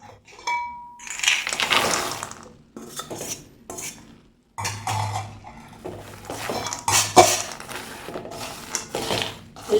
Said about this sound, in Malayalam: നല്ലതുപോലെ ഒന്ന് മിക്സ് ചെയ്ത് കൊടുക്കാം.